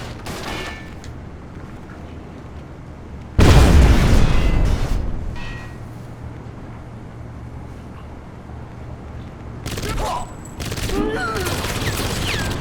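Gunfire and explosions in the video game Crysis, with a heavy blast followed by scattered bursts of shots and rumbling, loud and close, with some quieter stretches between.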